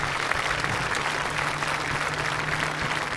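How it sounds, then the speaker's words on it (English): Sustained dense applause from a crowd at a 2025 senior awards ceremony, a steady even wash of many hands clapping at moderate distance with no pauses. "If we can give them a round of applause,"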